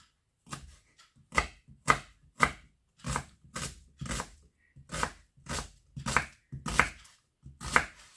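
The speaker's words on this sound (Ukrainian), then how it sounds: "Цибулю можна натерти теж на терку, але я її наріжу. Наріжу дрібненько-дрібненько, як тільки можливо." A knife finely chops an onion on a board in a steady series of about a dozen crisp, close knocks, evenly spaced with brief gaps.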